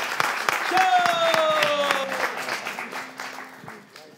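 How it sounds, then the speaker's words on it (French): A crowd claps steadily for several seconds at a season finale show, the applause fading toward the end, with a few voices mixed in. "on les applaudit, s'il vous plaît."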